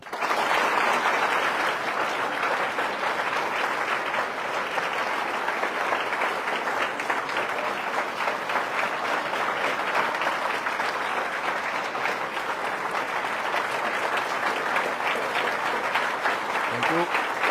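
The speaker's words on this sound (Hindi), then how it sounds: "आप तब तक आपकी तालियां बजती रहें।" Students applauding to honour their teachers on Teachers' Day, a long, loud, unbroken roll of crowd clapping in a hall that holds steady for many seconds, with faint voices mixed in.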